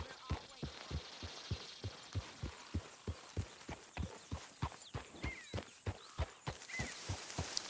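Horse hooves clip-clop steadily in Red Dead Redemption 2, a regular rhythmic walking gait of dozens of soft, close hoof falls over quiet ambient sound.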